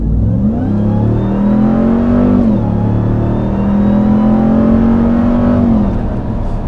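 A Ram 1500 TRX pickup accelerates hard in sport mode, its loud engine note climbing steadily through two rising pulls with a hard gear shift between them, heard from inside the cab.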